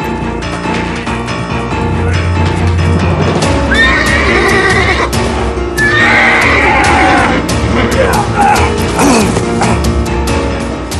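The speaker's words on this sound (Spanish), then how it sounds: "Cuidado con ese caballo, don Sebastián, que está muy brioso." A spirited horse neighs loudly and whinnies repeatedly amid galloping hooves and clattering in a dramatic scene, the calls rising and falling close by.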